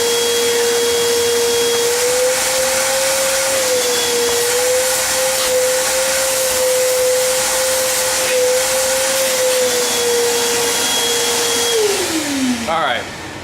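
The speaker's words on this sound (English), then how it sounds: "I'm going to vacuum out the crevices with all the shavings" A vacuum cleaner sucks wood shavings from the crevices of a workpiece for an F-14D Tomcat build, a loud steady motor whine and airy hiss running for over ten seconds before the pitch drops as it powers down.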